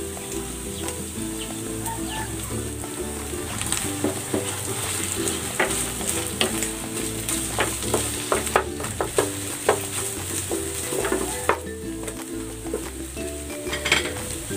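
Eggs fry in a pan with sardine sisig flavored with green chili and labuyo, a steady crackling sizzle throughout, with occasional sharp clinks of a utensil stirring against the pan.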